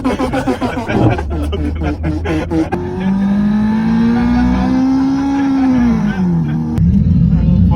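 Simulated car engine sounds play from a phone through a plug-in OBD reader fitted beside the pedals, with revving and a long rising-and-falling engine tone sustained for several seconds; a moo-like honk and other sound effects open the sequence.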